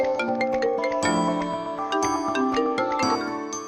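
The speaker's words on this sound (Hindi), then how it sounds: "आ गया तुम्हारे भैया का फोन।" A bright electronic ringtone chimes a repeating melodic jingle, steady and fairly loud with no voices.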